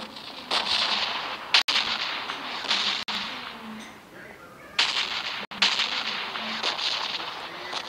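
Gunfire in the video game PUBG Lite, dense bursts of shots in a steady rapid rhythm, broken by brief gaps and a few sharp louder cracks, heard fairly close.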